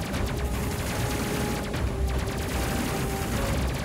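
Ship weapons firing in the space combat game Space Crew, a dense continuous barrage of rapid shots and mechanical clatter.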